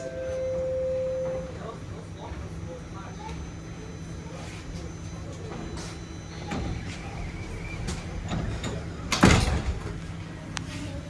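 Toronto TTC Line 4 Sheppard subway train doors closing at Don Mills Station, a sudden loud slam of the sliding doors about nine seconds in, following a steady hum of the train interior and a brief chime tone early on.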